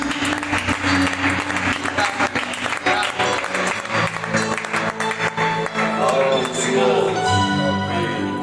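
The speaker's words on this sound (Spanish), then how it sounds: "Dar un aplauso a Dios." A church youth meeting congregation claps together in dense, continuous applause, with voices speaking and calling out over it.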